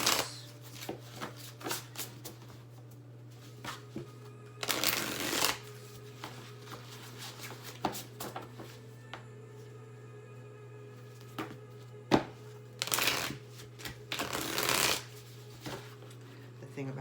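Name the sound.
shuffling a new deck of tarot cards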